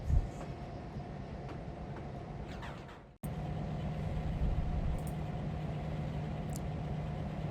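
Freight train cars being pulled out and coupled in a rail yard, a steady low rumble and rolling rail noise at close range with faint high squeals, a brief dropout midway, then the rumble continuing.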